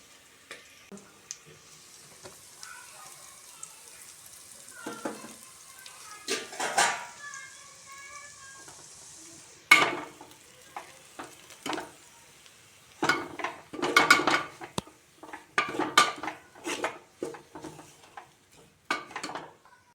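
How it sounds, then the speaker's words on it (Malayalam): Meat and roasted spice powders (turmeric, black pepper, meat masala, chilli, coriander) being stirred in a pan for kappa biriyani, with repeated scraping and clattering of a spoon against the pan, close and fairly loud in irregular bursts. "പൊടികളെല്ലാം മൂത്തിട്ടുണ്ട്. നമുക്ക് അതിലേക്ക് ഇനി ഇറച്ചിട്ടു. നന്നായിട്ട് ഇളക്കി യോജിപ്പിക്കാം."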